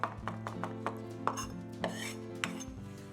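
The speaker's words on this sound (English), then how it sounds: "I'm chopping up just about a tablespoon of thyme" A knife chops fresh thyme on a cutting board, about eight sharp, evenly spaced knocks close by, with no talking.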